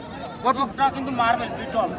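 Goats bleating at the Tebaria livestock market in Natore, with several short wavering bleats in quick succession, close by, under people talking.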